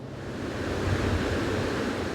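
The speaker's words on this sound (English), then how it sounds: "The mighty waves of the Pacific pound the shoreline during what's called a king tide" Pacific Ocean waves pound the shoreline of a low-lying island during a king tide, the highest tide of the year, as a steady, dense rushing roar of surf with no voices.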